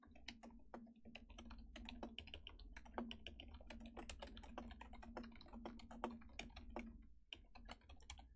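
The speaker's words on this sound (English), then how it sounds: "And you guys can hear all the typing." Rapid, continuous keystrokes on a computer keyboard clatter close up over a steady low hum, with a brief pause near the end.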